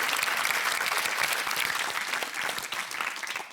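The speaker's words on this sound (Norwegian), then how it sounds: "Vi sleier ut med en applaus også." Studio audience applauding at a Norwegian Eurovision preview show, a dense, steady wash of clapping close and loud throughout, with no talk over it.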